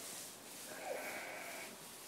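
A ewe that has just given birth to a lamb bleats faintly and briefly at mid-distance, a soft wavering call over steady outdoor background noise on a farm.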